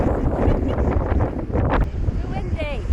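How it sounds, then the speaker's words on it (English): Strong wind buffeting the microphone on a beach near Esperance, Australia, loud gusty rumbling that rises and falls, with a voice briefly audible under it toward the end. "It's quite windy."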